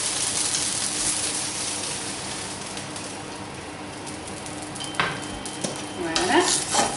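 Rösti with ham and onions fries in olive oil on a hot plate, a steady close hiss of sizzling fat throughout, with a few sharp scrapes and clinks of a utensil near the end.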